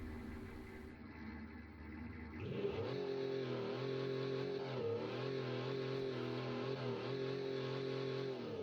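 A simulated car engine in the BeamNG driving game pulls hard in second gear after a quiet start, its steady droning growl rising and holding at a loud, sustained pitch with slight wavering.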